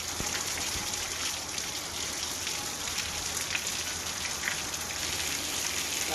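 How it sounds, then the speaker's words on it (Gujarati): Monsoon rain pouring steadily onto rural roads in Junagadh, Gujarat, an even, continuous hiss of falling drops with trickling water and no voices. "શહેર સહિત ગ્રામ્ય વિસ્તારમાં વરસાદી ઝાપટા પડ્યા"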